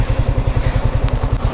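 A delivery motorcycle's engine thumps in a quick, even pulse, close and fairly loud, with no voices over it.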